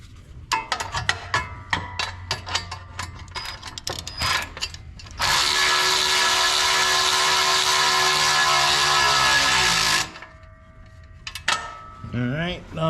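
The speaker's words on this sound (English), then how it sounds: "We'll go ahead and we'll get the 7/16 stuff out. We'll tighten up the rear here." Power tool driving 7/16 bolts on a Kubota filter guard: scattered clicks and short mechanical bursts, then a loud steady whir lasting about five seconds that stops abruptly, followed by quieter handling noises.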